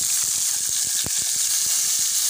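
Chopped green tomatoes hit hot oil in a pan, giving a steady, close, loud sizzle with small crackling pops scattered throughout.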